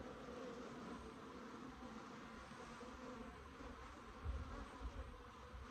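Cordovan F2 Italian/Africanized hybrid honeybees buzz from an open beehive, a dense steady hum of many insects close by, with a few louder low thumps near the end.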